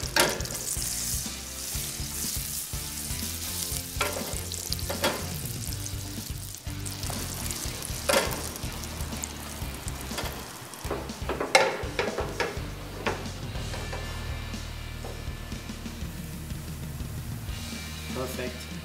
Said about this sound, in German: haben hier Butter, kommen mit rüber zur Pfanne. Und dann machen wir eine schöne Butterkruste dran.